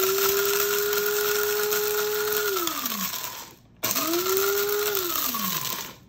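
Kitchen blender grinding whole black peppercorns into powder, a loud high whirring motor run that winds down, pauses briefly, then a second burst that spins up and slows to a stop.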